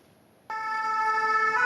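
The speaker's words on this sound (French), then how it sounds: "les sirènes retentissent à Pirée, dans le quartier Tenaho. Les pompiers se dépêchent." Fire brigade siren in Papeete's Tenaho district on Tahiti, French Polynesia, starting abruptly after a quiet half-second, then a loud, steady, harmonic wail that holds to the end.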